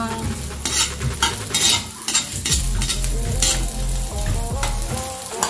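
Garlic is stirred and sautéed in a pan for chicken tinola, a loud close sizzle broken by repeated scraping stirs and clinks of the utensil against the pan.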